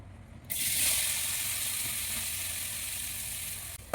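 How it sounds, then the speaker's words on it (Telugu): Spices and turmeric powder hitting hot oil in a pan, a sudden bright sizzle that starts after a brief quiet and holds steady and close, then cuts off with a clink at the end. "వీటిని ఆయిల్లో ఫ్రై చేసుకుందాం."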